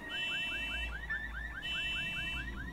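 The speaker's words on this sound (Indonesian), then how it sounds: "itu alarm mobilnya tiba-tiba bunyi loh" A car alarm going off as a sound effect: a rapid, repeating rising chirp pattern in quick bursts with a brief pause between cycles, loud and alone without speech.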